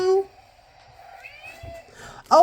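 A cat meows close by, with a short call at the start and a louder, rising meow at the end, separated by quieter sounds in a home setting.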